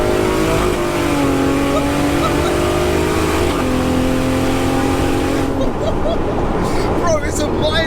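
A Toyota Supra MK4 fitted with a ZF 8-speed automatic transmission revs loudly up through the gears. Its engine note climbs, drops at each shift and climbs again, close and steady throughout.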